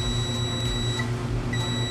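A multimeter in continuity mode sounds a steady electronic beep while probing capacitors on a laptop LED/LCD backlight circuit, a continuous tone lasting much of the moment, close and clear over faint background hum.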